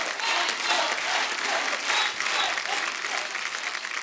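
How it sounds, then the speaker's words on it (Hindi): Loud, sustained applause from a television show audience, with dense clapping throughout the few seconds and slight swells in intensity. "जोरदार तालियां अनुराधा जी के लिए"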